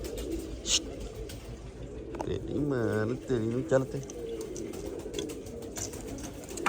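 Pigeons coo in a few soft, throaty bursts from a pigeon loft, mid-distance, while someone talks over them.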